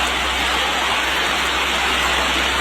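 Steady rain pours down without a break, a dense even hiss of drops falling on surfaces, loud and close with no other sounds rising above it.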